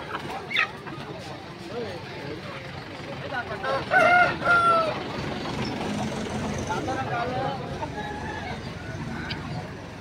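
Country chickens and roosters for sale at an old fish market, with a loud rooster crow in the middle and occasional clucks amid busy market chatter and people talking close by.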